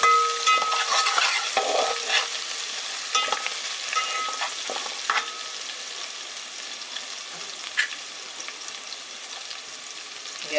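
Green chillies stir-frying over high heat in a pan for veg chowmein, a steady close sizzle broken by frequent spatula scrapes and clinks.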